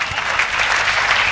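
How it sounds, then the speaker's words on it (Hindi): Applause from the audience at a Hindi poetry recital: brisk, even clapping from many listeners, loud and close, filling the short moment without pause. "एवं तालियां बजानी है।"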